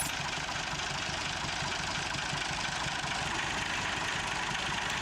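A tractor with iron wheels in a Mennonite colony in Mexico drones at a steady idle-like rumble with rattly mechanical texture, continuous and fairly even throughout, no voices.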